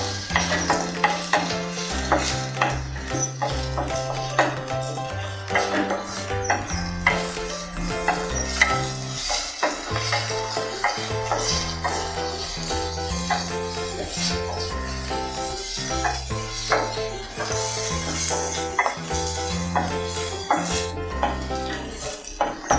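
Chopped big onion and spices sautéing in a pan for a manathakkali kai kuzhambu, with a steady loud sizzle and frequent scraping and clinking of a spoon stirring against the pan, continuous and close.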